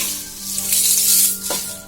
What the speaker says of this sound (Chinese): 炒至辣椒变成这种枣红色的时候，声音有点发脆了，就可以关火。